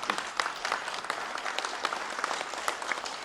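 An audience applauds five heads of business associations at a Korean economic meeting, a steady wash of many hands clapping at moderate volume with no talk over it.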